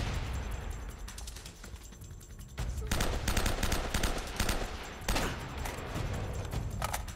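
Gunfire in the video game Uncharted: Drake's Fortune, rapid automatic bursts and scattered shots crackling over a rumbling battle backdrop, loud and continuous.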